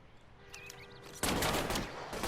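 Gunfire aimed at a car's tires in the video game L.A. Noire: after a quiet lead-in with faint game tones, a dense, loud burst of rapid shots crashes in and keeps going to the end.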